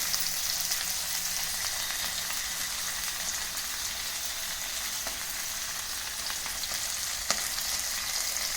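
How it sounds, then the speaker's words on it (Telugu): Green chillies and sliced onions frying in a pan, a loud, steady, rain-like hiss of oil sizzling close by, with occasional light clicks and no talk. "పచ్చిమిరపకాయలు, ఎర్రగడ్డలు కొద్దిగా మగ్గాలి."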